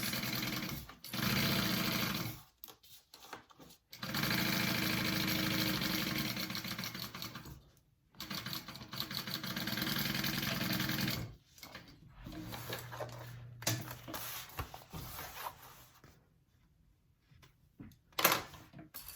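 A sewing machine stitches a bag lining seam in several long, steady runs separated by short pauses, close and continuous, with softer handling noises between the runs.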